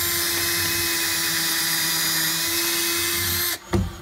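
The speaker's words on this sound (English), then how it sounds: "Put a couple more screws through here, as you can see." A power drill drives screws into the base of a shelf with a loud, steady high whine held for several seconds. The whine cuts off near the end, followed by a short clatter.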